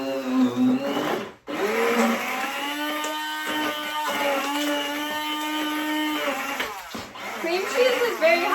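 An electric hand mixer churns stiff cream cheese for a 1950s lime jello salad, with a steady whining motor hum that strains and drops briefly twice as it bogs down. A voice talks over it.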